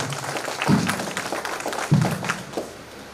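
Audience applause for a singer at a Padutha Theeyaga song event: short, scattered bursts of clapping that swell and fade, with a few sharper claps standing out, moderately close.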